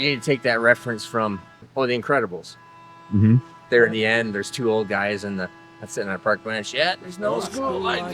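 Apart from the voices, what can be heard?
No everyday noises stand out.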